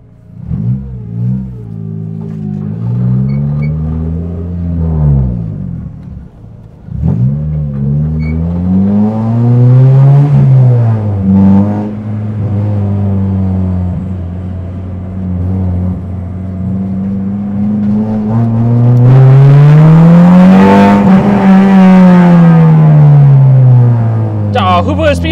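A K24Z-swapped Honda EK hatchback pulls away from a car meet, its four-cylinder engine revving loud and close through rising and falling gear pulls, with a voice talking over it.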